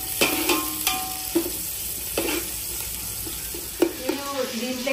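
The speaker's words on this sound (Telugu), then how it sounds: "ఇవన్నీ పోపు పెట్టుకుంటున్నాను" Whole spices sizzle in hot butter and oil in a pan for a home-style dum biryani. The frying hiss is steady, and sharp metallic stirring clicks and scrapes land close by at irregular intervals.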